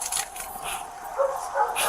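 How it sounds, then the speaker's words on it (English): Large dogs bark and yip in a continuous, agitated burst during a police search-warrant entry, fairly close and loud with no pauses. "that sounds like bigger dogs"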